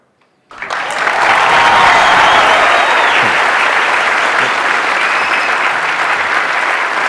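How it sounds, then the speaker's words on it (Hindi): Loud, sustained applause from a large audience at a live talk, starting abruptly after a brief quiet and continuing as a dense, steady wash of clapping. "मेरा दिल रखने के लिए तालियां बजा रहे हो?"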